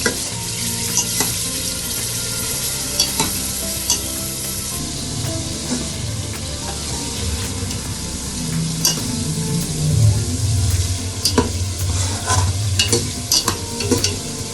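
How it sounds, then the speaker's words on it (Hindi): Ginger garlic paste and tomato-chilli masala fry steadily in a pan for a Delhi-style aloo gosht, with a continuous sizzle broken by scraping and stirring sounds from a spoon. "ये मसाला भी अच्छे से भुन गया है"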